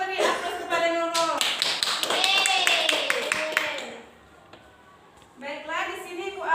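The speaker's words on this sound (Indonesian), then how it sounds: "Coba beri aplaus kepada Nurul." A classroom of young students claps for a classmate, a dense burst of hand claps lasting a few seconds before fading, with voices speaking before and after.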